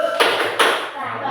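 Two sharp, loud claps ring out in a classroom as pupils join a teacher-led clapping chant, with a voice lingering underneath.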